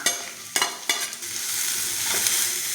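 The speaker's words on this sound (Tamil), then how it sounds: "நல்லா வதக்கிக்கோங்க" Onions, cumin and curry leaves sautéing in a pan for semiya sambar kitchadi: a continuous close sizzle with a few sharp spatula scrapes early on, then steady frying hiss, no speech.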